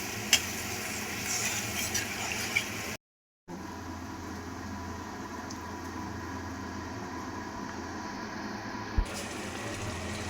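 Water added to a pan of paneer masala simmers with a constant hissing, bubbling wash. It cuts out briefly, then resumes, with a single soft knock near the end.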